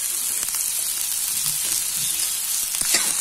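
Onion, potato and peanuts sizzle in a pan for kande pohe, a steady broadband hiss of frying with faint clicks of stirring throughout, no talking.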